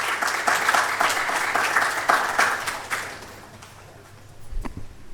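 An audience at a research institute's opening ceremony applauds a JICA representative, brisk clapping from many hands that is full and steady at first, then thins and fades, with a brief low thump near the end.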